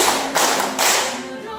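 A class of children clap together three times during a classroom clapping exercise, three loud, close, slightly ragged group claps in quick succession, each with a short decay.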